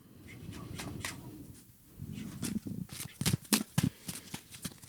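Tarot cards being shuffled by hand up close, a burst of riffling followed by a series of sharp, rhythmic slaps and flicks growing louder.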